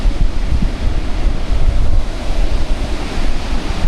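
Ocean surf breaking along the Margaret River coast where people are surfing, a loud continuous wash of crashing waves and wind with no pauses, heard alone without voices.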